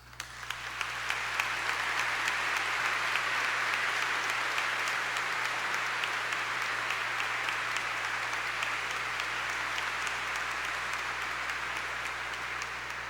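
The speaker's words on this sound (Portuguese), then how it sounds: "manifeste-se com uma salva de palmas" A church congregation applauds together during an ordination Mass, a dense, steady, fairly loud wash of clapping that swells quickly and holds for the whole stretch with no talk.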